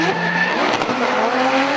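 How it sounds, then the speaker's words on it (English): Race car at speed with tires squealing and skidding, a continuous loud engine roar and a sustained high screech running through the whole short stretch with no talk. "show what we do. You know, racing cars."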